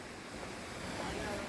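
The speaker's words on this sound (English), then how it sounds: "waterfall is looking quite beautiful" A waterfall near Muzaffarabad in Azad Kashmir gives a steady, loud, broad rush of falling water, even and unbroken throughout.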